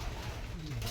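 Pigeons coo at a feeding spot, a soft low throaty call rising out of a faint murmur of background ambience, brief and fairly close.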